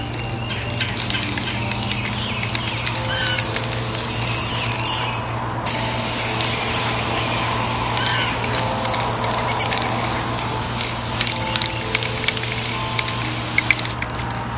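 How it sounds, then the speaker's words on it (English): Spray can of matte finish sprayed onto plastic pumpkins in long continuous hissing bursts, with a brief pause after about five seconds before spraying resumes, close and loud over a low steady hum. "I'm just going to spray this down really well with this matte finish."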